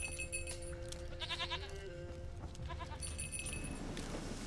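A goat in The Witcher 3 bleats in a few short, wavering calls amid steady in-game ambience, with a faint bell-like tone nearby.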